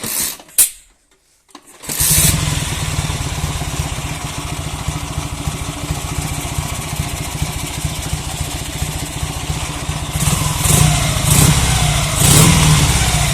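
A Dnepr motorcycle engine, freshly tuned after carburetor adjustment, cranks with a brief sputter, catches after a pause and runs loud and close with a rapid steady beat, rising into several sharper revs near the end.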